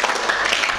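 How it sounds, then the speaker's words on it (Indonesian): Audience at a teacher training session applauding themselves, a short burst of dense clapping from many hands close by, with no talk over it. "tepuk tangan untuk diri kita sendiri ya"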